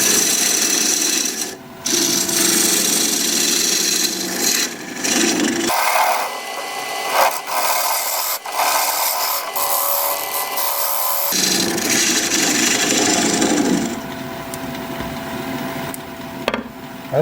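A wood lathe turns an acacia live-edge bowl while a dovetail tool cuts into it, making loud, close scraping and rasping bursts. The cutting stops and starts between stretches of quieter whirring as the tool is repositioned, and there is no talking.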